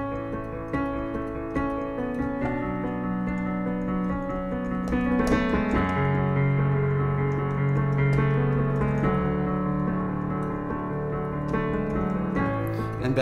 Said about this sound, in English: the part that I'm going to show you now is the intro